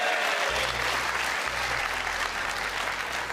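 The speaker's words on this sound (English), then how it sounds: "Policemen are clapping there." Policemen in a studio audience applaud at a televised quiz show, a steady, dense clapping that holds loud and continuous throughout with a low hum underneath.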